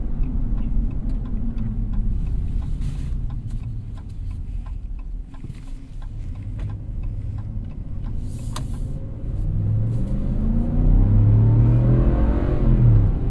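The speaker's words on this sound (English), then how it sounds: "Who wouldn't want a V8? Oh. These Hemi sound amazing." A 2024 Ram Rebel pickup with a Hemi V8 accelerates from inside the cab, its deep rumble building steadily and swelling louder toward the end, with faint ticking and road noise underneath.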